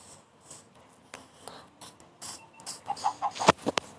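A few soft clucks from a chicken in Minecraft, with light clicks and taps around them and a sharper burst near the end.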